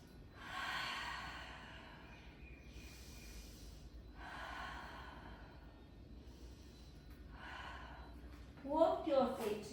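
Slow, deep breaths during a Pilates stretch, four long airy inhale-exhale cycles close to the microphone, then a brief voiced sound at the very end.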